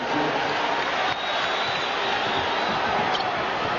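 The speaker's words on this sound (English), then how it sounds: "Listen to this crowd at the Delta Center." Loud, steady roar of a packed basketball crowd at the Delta Center during the 1998 NBA Finals, Bulls at Jazz, sustained and dense throughout with a slight dip partway.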